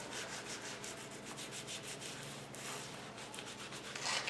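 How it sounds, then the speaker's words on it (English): Paste wax rubbed by hand into the joints of a warped wood form for a concrete fire table, a continuous close scuffing rub that swells slightly at the end. "What you do, by hand, you rub it into the joints"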